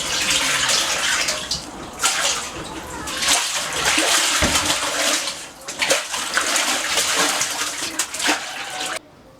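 Water pours and splashes steadily into a tank that feeds poultry drinkers on a farm, with a continuous gushing rush that briefly dips and pauses near the end.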